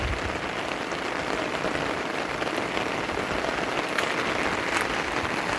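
Heavy rain pouring steadily on a property on a February morning, a loud, unbroken hiss and patter of drops on surfaces, close and constant with no voices.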